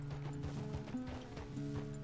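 Hooves of a horse clip-clop in an irregular walking rhythm in Red Dead Redemption 2, faint and close, with low tonal background sounds.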